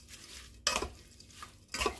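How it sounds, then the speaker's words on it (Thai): Shrimp marinade of soy sauce, sugar, seasoning powder and sesame oil tossed together in a bowl, giving two short bursts of wet clinking and scraping separated by a quiet pause. "ทีนี้เราก็คลุกเคล้าให้เข้ากัน"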